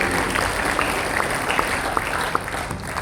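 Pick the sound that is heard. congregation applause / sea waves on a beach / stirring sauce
congregation applause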